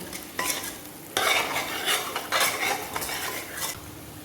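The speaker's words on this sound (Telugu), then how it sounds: "ఈ కారం పచ్చివాసన లేకుండా ఒకసారి కలిపేసుకోవాలి" Spoon stirring chili powder into a mutton gongura base in a metal pan, with repeated scraping strokes and a soft sizzle, close and steady, no voices.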